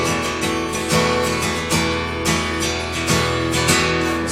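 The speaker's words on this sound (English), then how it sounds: "This is called a bar chord, where you just have to bar all 3 of them." A guitar bar chord, the pointer finger laid across the middle three strings, strummed repeatedly in a steady rhythm, each strum ringing bright and close with no talking.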